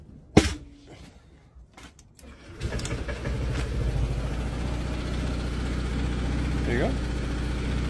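A Honda Forza 125 scooter fitted with a Malossi 170cc kit fires up after a few clicks and knocks, then settles into a steady, close idle with a brief blip; someone speaks briefly early on.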